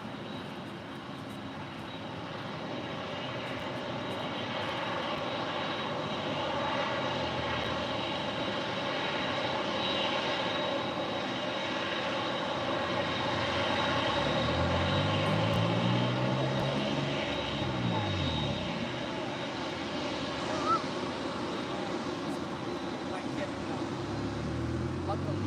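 An airliner takes off from runway 25 right at LAX, its engine roar building gradually and rising into a loud sweeping whine as it passes, then easing, with radio talk faintly underneath.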